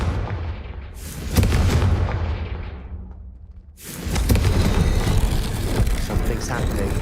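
Confringo fire spell bursting in the Hogwarts Legacy video game: two loud whooshing blasts, the first fading into a long decaying rumble before a second heavy explosion with crackling debris, close and dominant.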